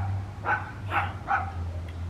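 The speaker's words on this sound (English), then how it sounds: "That little dog drives me nuts." A neighbor's small dog barks three sharp, evenly spaced times at a middle distance, over a steady low electrical hum in a woodcarving workspace.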